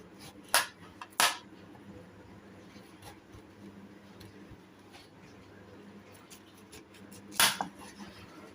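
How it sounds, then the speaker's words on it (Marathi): A peeled raw green mango is chopped with a knife on a board for pickle, giving a few sharp, separate knocks spread out over a quiet kitchen background. "आपण आता याला चिरून घेऊयात कैरीला"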